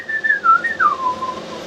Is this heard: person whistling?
yes